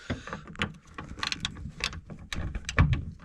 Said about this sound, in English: I'm only using 3/8 drive with a little palm spanner. Let's say a palm ratchet.